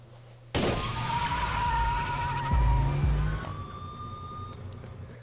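A car in the GameCube game Tony Hawk's Pro Skater 3 bursts in loudly and holds a steady roar, with a long tire squeal and skidding over the engine for about three seconds before easing to a lower hum.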